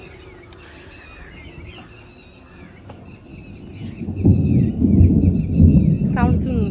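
Thunder rolls ahead of rain, starting faint and swelling into a loud, deep rumble in the second half, while birds chirp and squeal above it.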